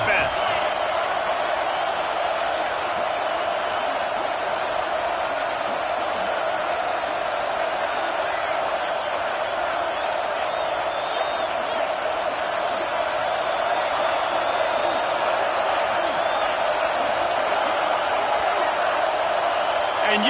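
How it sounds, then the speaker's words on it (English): Football stadium crowd roaring on a third down as a Texas defense takes the field, a continuous, loud, unbroken wall of cheering and noise lasting the whole stretch with no talk. "Big third down as the crowd gets behind this defense."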